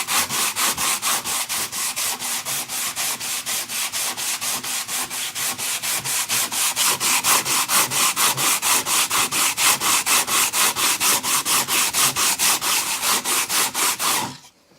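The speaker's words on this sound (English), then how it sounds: "Now this sanding takes a little bit of elbow grease and it takes a little time" Rapid, even back-and-forth strokes of hand sandpaper rasping over a wooden cutting board, close up, continuing for a long stretch before stopping abruptly.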